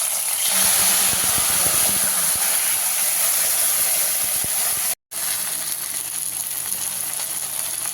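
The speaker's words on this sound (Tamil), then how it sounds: "இந்த எண்ணெயில் போட்டு நல்லா வதக்கி எடுக்கணும்" Sorrel leaves (puli keerai) sauté in hot oil in a kadai, producing a loud, dense, continuous sizzle and hiss with a few crackles early on and one brief silent gap midway.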